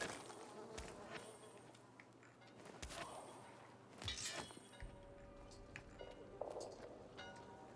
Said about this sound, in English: Bees, bees, bees.